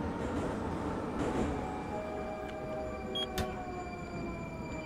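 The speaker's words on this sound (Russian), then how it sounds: "Я очень сильно зол на этот вагон" A Moscow metro car, the 81-740.4 Rusich, runs in the Gmod Metrostroi simulator with a steady loud rolling rumble, droning motor tones and a brief squeal near the end, with no voices.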